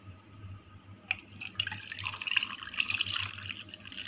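Coconut milk poured into a glass over ice cubes while making a coconut milkshake, a steady close liquid splashing and trickling that starts after a second of near silence and keeps going to the end.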